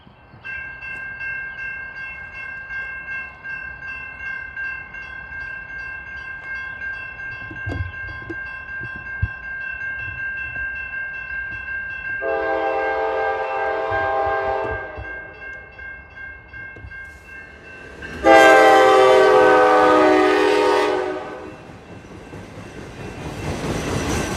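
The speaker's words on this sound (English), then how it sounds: "one of the last two remaining Triple Crown RoadRailer trains that ever run in this country" A Norfolk Southern Triple Crown RoadRailer freight train rolls past in Michigan with a steady rumble and ringing crossing bells, punctuated by two long, loud horn blasts.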